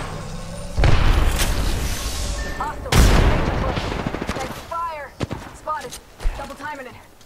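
Two heavy bursts of gunfire and booms in the battle royale game Apex Legends, loud and close, fading into scattered shots while a voice talks over the later part.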